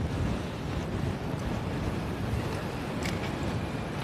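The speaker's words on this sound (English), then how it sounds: "It's a windy headwind in this direction." Strong headwind roaring against a microphone outdoors while walking along a road or path, a loud, constant buffeting rumble with gusty swells and no talk.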